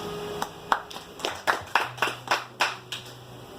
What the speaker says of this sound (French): Acclamons pour le roi de roi.